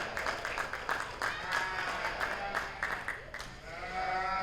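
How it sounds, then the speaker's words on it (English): At an evening 4-H sheep and goat show, the crowd gives the exhibitors a round of applause, a moderate, slightly distant clapping with scattered sheep or goat bleats rising through it. "let's give all these exhibitors a nice round of applause for being out here tonight"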